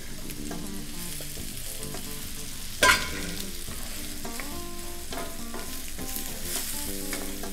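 Shallots and andouillette sausage frying and being stirred in a pan, with a steady close sizzle throughout and one sharp clatter of a utensil partway through.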